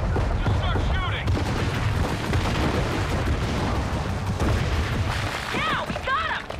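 Gunfire in a Gears of War 4 finale battle, dense continuous shooting with heavy booms and explosions throughout, with short bursts of shouting voices near the start and end.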